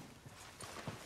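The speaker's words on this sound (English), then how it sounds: "Horse in camp." A few soft horse hoof clops at a slow walking pace in a camp in the video game Red Dead Redemption 2, fairly quiet against a low background hum, with no talking.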